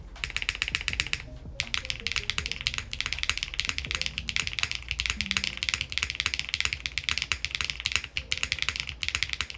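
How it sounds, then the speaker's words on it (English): Rapid clacky keyboard typing with thocky spacebar presses from a modded Cherry MX2A switch, close and crisp, steady busy rhythm with a brief pause near the start. "let's see how a cherry switch sounds in our spacebar department here"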